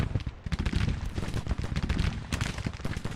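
Artillery battery in Grand Tactician: The Civil War pounding an enemy brigade, a rapid, ragged series of loud booming cannon blasts and crackling impacts, fired close together with no pauses.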